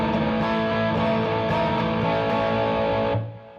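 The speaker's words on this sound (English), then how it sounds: "if I turn on the distortion and I don't do that, this is going to get really unclear." A distorted electric guitar chord strummed without palm muting, held as a sustained, ringing wash of overdriven tone with no talk, then quickly fading away at the end.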